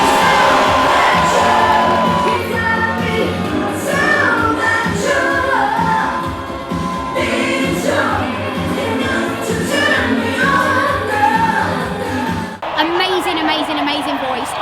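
At London Pride 2014, an outdoor crowd screams and cheers loudly and steadily, with shouting voices mixed through the roar.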